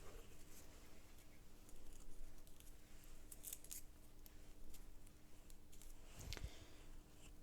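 Scissors cut a glued paper ring for a light-up Christmas craft, giving faint, close snips and small rustles in a quiet room, with one sharper crisp cut near the end.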